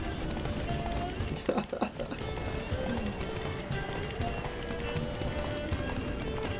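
A horse galloping in The Witcher 3: Wild Hunt, steady rapid hoofbeats running throughout over game ambience, with a brief louder clatter near the middle and someone talking over it.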